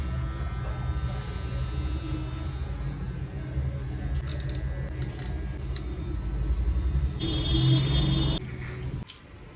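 An electric hair trimmer buzzes steadily throughout, with short bursts of clicking and a louder stretch near the end before it cuts off.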